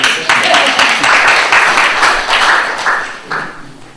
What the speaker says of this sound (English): You give a round of applause.